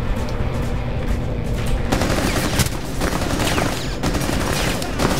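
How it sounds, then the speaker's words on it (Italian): Steady video game gunfire in Rainbow Six Siege, rapid overlapping shots and bursts filling the whole stretch at moderate loudness, with dense combat noise throughout. "Ci stanno sparando. Ma mi stanno sparando da fuori."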